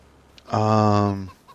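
A chicken in the Farming Simulator 25 video game gives a single drawn-out, fairly loud cluck lasting most of a second, heard alone against a quiet background.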